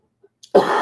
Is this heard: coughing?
yes